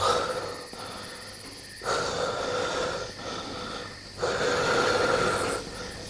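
Heavy, laboured panting, like someone struggling up stairs, rises and falls in slow drawn-out breaths, loud and close, with no talking.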